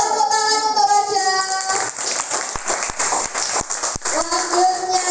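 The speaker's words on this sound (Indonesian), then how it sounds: "tepuk tangan untuk Raja" Classroom applause for a student, a short burst of clapping from children that rises after a teacher speaks and fades as her voice returns.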